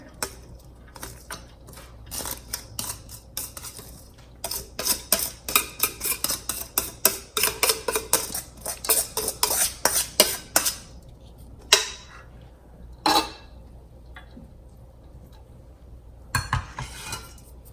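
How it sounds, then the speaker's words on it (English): Cooked rice is tipped into a pot of layered chicken tikka biryani, with repeated scraping, tapping and clinking of a spoon against the pot in uneven bursts, close and fairly loud, with no talk. "We're gonna throw all the rice in here."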